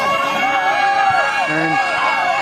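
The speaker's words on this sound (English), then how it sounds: "Now you can see here crowd from all the sides" Football spectators crowd around the pitch at a local club match, a continuous murmur and babble of many voices with scattered shouts, a nearby voice rising briefly above the steady hubbub.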